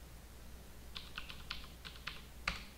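Keys on a computer keyboard are tapped to type a short command, a few faint, evenly spaced clicks over a low steady room hum.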